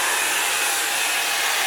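A hair dryer on a low setting blasts close and loud without letup, pushing wet fluid-art paint outward into a bloom, a dense steady rush of air with no talking.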